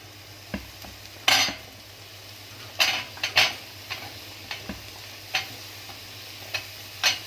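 A spoon stirs sautéed vegetables with carrots in a pan, giving sharp scraping clicks at irregular intervals over a faint steady sizzle, with no voices.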